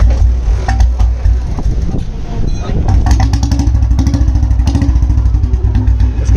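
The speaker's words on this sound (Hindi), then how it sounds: "इसका एक बार एग्जॉस्ट ले लो।" A Royal Enfield Bullet 350 runs close by, its exhaust giving a loud, steady, thumping low beat throughout, with people talking over it.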